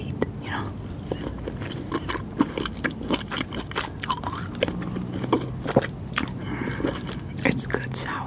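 Snake fruit being bitten and chewed up close, with soft crunchy, wet mouth sounds in an irregular rhythm and occasional light whispering underneath.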